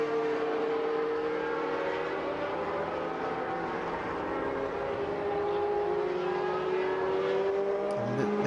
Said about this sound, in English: ragging around a Formula One Lotus in the wet on slicks